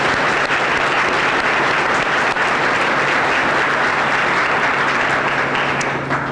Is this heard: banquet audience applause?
yes